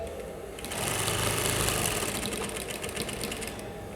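A sewing machine stitches the back side of a bustier, its fast steady whirring rising after a brief quiet start and running continuously close by, with no talk.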